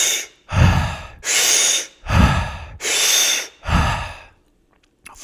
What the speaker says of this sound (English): the Wim Hof breathing method is a activating method where you take 30 breaths in through the mouth and out through the mouth